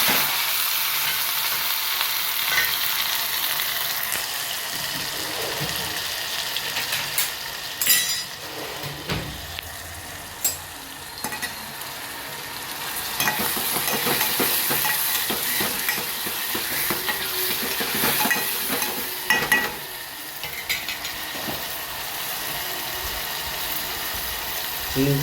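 Green onion, tomato, red chilli and spices frying in oil in a home kitchen, a steady close sizzle punctuated by utensil clinks and stirring over about twenty-five seconds.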